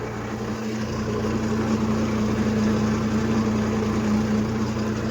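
A Mahindra tractor engine runs in a farm field while irrigation channels are laid out, giving a steady, unbroken mid-distance drone with a constant low hum throughout.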